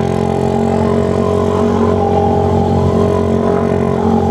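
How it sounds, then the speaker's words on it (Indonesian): Suzuki Satria F1 motorcycle engine revved repeatedly in place of a missing horn while escorting an ambulance in Indonesian traffic; a loud, steady, close engine drone with rising revs throughout. "gua enggak ada klaksonnya jadi gua harus geber-geber"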